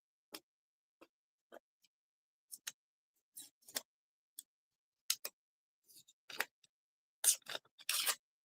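Pieces of tape are torn off a roll in short, sharp rips, about a dozen quick bursts separated by silence, growing louder and longer toward the end.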